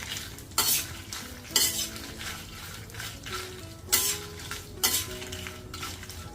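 A spoon scrapes and stirs garlic roasting in a pan over a low sizzle with the heat off, with several sharp clinks against the metal and no voices.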